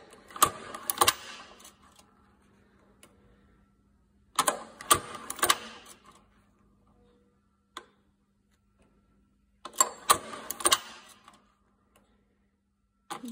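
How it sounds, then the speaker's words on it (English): A Cowboy Outlaw leather sewing machine stitching in reverse, with three short bursts of rapid mechanical clatter separated by quiet pauses and a faint hum between them. "Do our reverse stitches that way."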